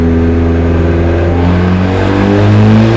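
A turbocharged K24-swapped Miata roars loud and sustained on a dyno, its engine pitch climbing steadily as it revs toward boost cut, with no talk over it.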